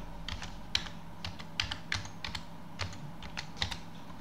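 A password is typed on a computer keyboard in a quick, irregular series of close, crisp key clicks over a quiet background, with no voices.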